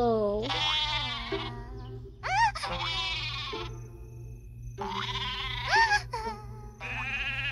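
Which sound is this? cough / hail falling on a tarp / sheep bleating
sheep bleating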